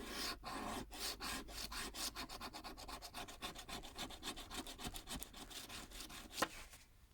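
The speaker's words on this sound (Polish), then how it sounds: "Zdrapujemy za jednym razem cały drugi." Rapid scratchy rubbing strokes on a lottery scratch card, a steady series of quick scrapes repeating close to the microphone, with no voices.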